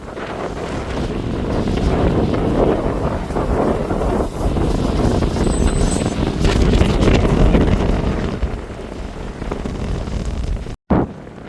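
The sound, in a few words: strong wind blowing at Cape Soya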